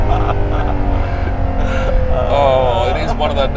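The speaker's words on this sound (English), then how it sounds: "Oh, it is one of the nicest sounds. That's fantastic, isn't it? A screaming V12" Screaming V12 engine of a Ferrari LaFerrari or McLaren Speedtail hypercar, a loud, sustained engine note with a rising pitch sweep near the end, heard close with voices talking over it.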